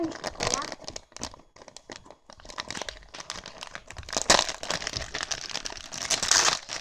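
A plastic package is torn open up close, with crinkling and rustling crackles in uneven bursts throughout as a person talks over the handling.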